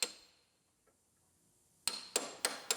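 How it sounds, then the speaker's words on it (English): Spot welds are broken out of the body panels of a 2013 Buick Enclave AWD, with one sharp metallic strike, a pause, then four quick loud bangs in a row, close by. "So we break our spot welds out."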